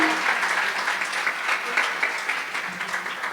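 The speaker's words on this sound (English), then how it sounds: "A huge round of applause for him." Crowd at a school book launch event clapping for an honoured guest, a loud, continuous round of applause from a room full of people, steady throughout.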